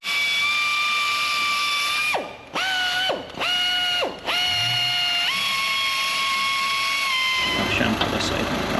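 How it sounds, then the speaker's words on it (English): Dremel rotary tool whining at high pitch while tidying a Ford Mondeo Mk4 rear suspension part, close and loud, spinning down and back up three times in quick bursts before running steadily again. "Take it to the Dremel, give it a quick tidy up again."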